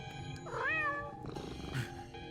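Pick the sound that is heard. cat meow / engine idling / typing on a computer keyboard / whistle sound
cat meow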